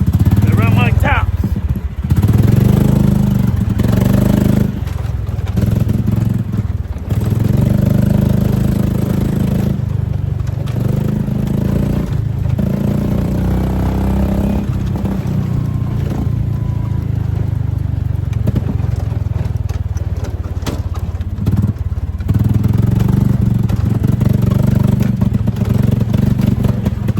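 A Predator 459cc engine running with a new carburetor, a steady loud rumbling drone that persists throughout with brief dips, while someone talks over it.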